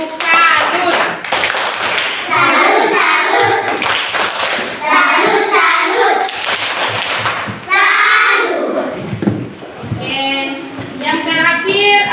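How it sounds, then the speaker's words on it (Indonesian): A group claps a rhythmic Indonesian 'tepuk salut' salute, patterned bursts of hand claps with chanted voices mixed in, loud and close throughout. "Tepuk salut."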